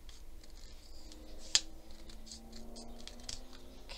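Scissors snip a paper strip for a handmade journal: a single quick, crisp cut in a quiet room with a low background hum.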